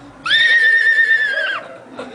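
A voice imitates a horse whinnying, giving one sustained, wavering neigh that rises, holds and then drops off, loud and close, followed by a short breathy sound.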